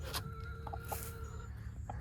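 Chickens cluck softly at a distance, scattered short calls over a low steady background hum.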